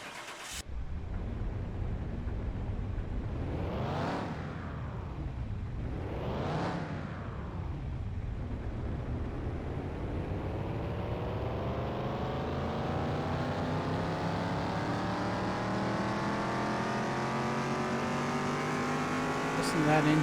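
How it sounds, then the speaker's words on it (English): Tuned Dodge Challenger R/T V8, modified from its factory 390 horsepower, revs hard twice in quick rising-and-falling bursts, then settles into a loud, steady idle that slowly climbs in pitch, close to the microphone with no one talking. "Listen to that engine sound."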